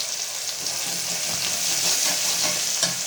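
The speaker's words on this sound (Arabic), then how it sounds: "واحمر بس التوم كده معايا" Minced garlic frying in a spoonful of oil or ghee in a pot for Egyptian koshari sauce, a steady close hiss and sizzle with faint stirring scrapes throughout, no talking.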